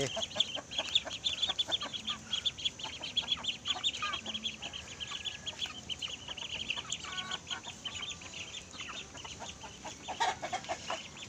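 Backyard chickens cluck steadily and close by in a home garden where ducks are also kept, a busy run of clucks, some louder, heard over a constant high insect-like hiss.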